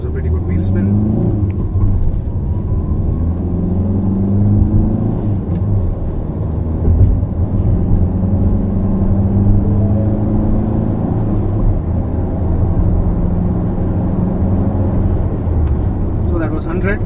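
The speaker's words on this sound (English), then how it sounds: "That was a pretty good wheel spin." A Ford EcoSport S launches hard from first gear with traction control off, spinning its wheels. The engine roars loudly and continuously for the whole stretch as it climbs through the revs from inside the cabin.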